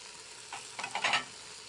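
Beef cubes brown in a Fagor pressure cooker, a faint sizzle with a few short stirring scrapes and clinks against the pot, quiet and brief.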